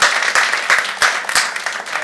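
Audience at an improv student showcase gives a round of applause, close and loud clapping with several strong individual claps punctuating a continuous patter of hands, no talking over it.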